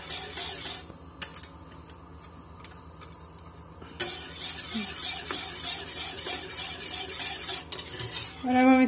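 A spoon stirs rice phirni mixture in a pot, giving steady close scraping and clinking against the metal with a soft simmer underneath, with louder, busier strokes in the second half.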